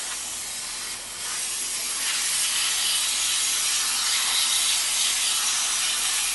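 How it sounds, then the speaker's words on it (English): Brake cleaner is sprayed onto the brakes of a 2005 Honda in a continuous aerosol hiss that starts slightly softer, then grows heavier and louder, close up with no talking. "then you can spray it a little heavy to get everything off"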